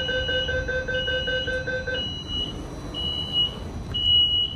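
A door-closing warning buzzer sounds aboard a Wuyi tram on Line 1 in Fujian, giving a steady electronic tone for about two seconds, then shorter high beeps repeating over the cabin's low rumble.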